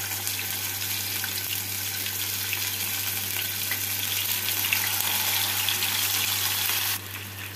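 Chicken leg pieces frying in two tablespoons of hot white oil in a pan, a dense, steady sizzle and crackle close up, continuous until it drops away near the end.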